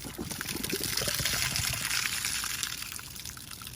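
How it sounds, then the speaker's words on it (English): Salt water trickling and splashing in a steady stream close by as it leaks from a broken seal on a Jacuzzi J-SS40 salt cell, a continuous liquid spatter without any voices. "break the seal so it leaks here"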